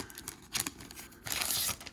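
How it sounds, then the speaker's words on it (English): A plastic bag being opened and torn while unboxing a board game, with close, crisp crinkling and ripping in short bursts, louder toward the end. "let's get this out of its plastic bag"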